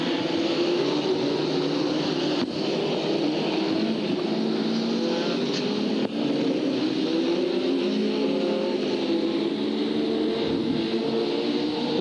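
F2 stock cars racing at Hartlepool in 1993, a continuous loud drone of several engines roaring together with shifting pitch as cars pass, steady throughout with no clear breaks.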